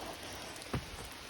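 Light rain falls steadily on the Mahoosuc Notch trail, a soft, even hiss of drops on leaves and rock with one brief nearer patter, faint and without voices.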